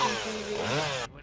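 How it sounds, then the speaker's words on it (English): Chainsaw in a game kitchen where meat is prepared, a steady high buzzing whine that shifts pitch slightly, then cuts off abruptly near the end. "This is just the chainsaw I use to make meat."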